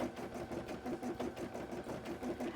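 A sewing machine stitches cosplay fabric in quick, even bursts of mechanical whirring and ticking, close and fairly quiet.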